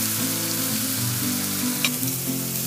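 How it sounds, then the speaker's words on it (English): Grated ginger sizzles in a pan for pav bhaji, a steady frying hiss up close with a soft low hum and a brief clink of a utensil midway. "Add the ginger, grated ginger."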